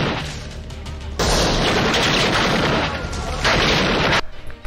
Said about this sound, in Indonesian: Mereka pun langsung menembak ke arah hutan.